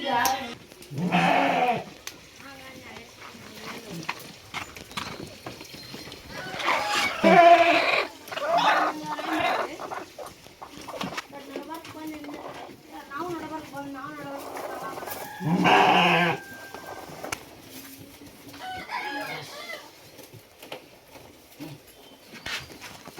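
Young fighter rams bleat inside a shed, with several loud calls scattered among quieter bleats while someone talks nearby.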